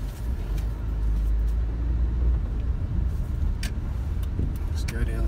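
A 2007 Hyundai Tucson GLS drives along and shifts through its gears, with a steady, loud engine and road rumble heard from inside the cabin and a few faint knocks on top.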